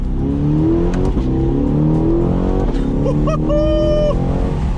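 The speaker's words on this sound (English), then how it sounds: "All right, let's see what this V8's all about, huh? Let's give her a punch." A 2020 Corvette Stingray V8 pulls hard under full throttle, its engine note climbing through steady rising sweeps with a shift partway, loud and continuous from inside the car.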